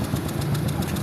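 A misfiring car engine, its ignition coils and spark plugs recently replaced, runs with a rough, uneven throb and knocking pulses, steady and close throughout the short stretch.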